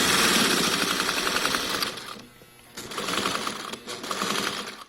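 A sewing machine runs close up in fast rhythmic bursts, stitching a seam on fabric for a yoga bolster made from blankets, with a short pause midway before the motor whirs on again.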